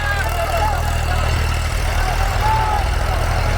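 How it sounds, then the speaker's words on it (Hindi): An Eicher 333 tractor pulling an 11-tine cultivator through dry field soil, its engine lugging under load with a loud, steady low diesel drone throughout and voices over it. "ट्रैक्टर भी पूरे दमदमा के चला रखा है, मतलब आरपीएम पूरे ड्रॉप कर रहा है"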